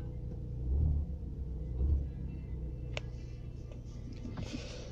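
A 3.0-litre Audi A4 B6 Quattro sedan idles outdoors with a low, steady rumble, joined by a couple of brief deeper swells and a few light clicks and taps nearby.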